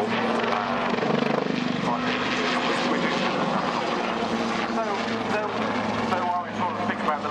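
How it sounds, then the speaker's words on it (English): Lynx military helicopter at the Waddington International Air Show, a loud, continuous rotor and engine roar with rhythmic blade chop holding steady throughout, someone talking over it. "we sort of think about the Lynx as being as an anti-tank helicopter"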